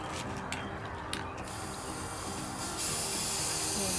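Spray paint hisses onto a sump light for a 135-gallon aquarium setup in a steady, close, continuous rush that swells louder near the end, with faint mechanical clicks early on.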